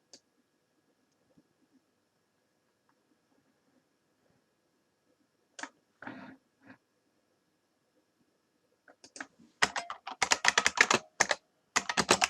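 Keys on a computer keyboard clatter in quick bursts as a message is typed, a few scattered taps first, then a dense run of close, crisp keystrokes.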